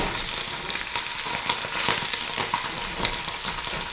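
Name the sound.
steak sizzling in hot pan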